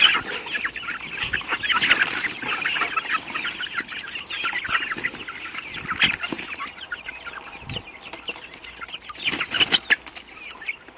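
A large flock of about a hundred chickens clucks and squawks eagerly as a feed mix is scattered for them, with bursts of wing flapping; the busy, overlapping calls stay close and loud throughout, with no talking.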